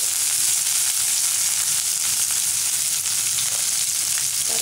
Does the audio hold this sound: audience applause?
no